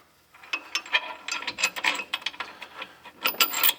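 A ratchet tightens a lock nut on a bolt while a power brake booster is installed on a 1967 Pontiac Catalina during a disc brake upgrade. Close, rapid bursts of ratcheting clicks repeat steadily with no talk.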